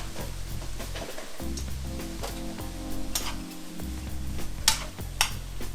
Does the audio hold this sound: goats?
no